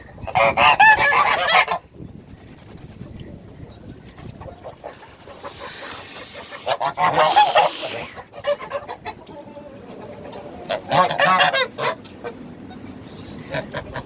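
Geese on a homestead in cold weather honk in loud, clustered bursts of squawking calls separated by quieter stretches, with wind noise and people talking in between.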